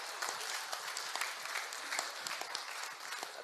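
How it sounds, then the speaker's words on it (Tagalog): An audience at a political rally for a presidential nomination in the Philippines applauds, dense, fairly distant clapping that holds steady throughout. "Isang palakpak nga para kay Senator Larry Gadon"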